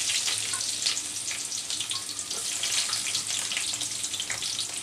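A large sliced onion frying in oil with bay leaves, cinnamon, cardamom and cloves for white polao, giving a continuous bright sizzle with faint stirring scrapes and no talking.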